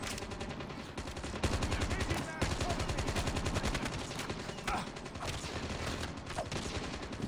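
Gunfire in the mobile shooter Call of Duty Mobile during a street fight, rapid automatic bursts rattling loudly and almost continuously, with brief gaps between volleys.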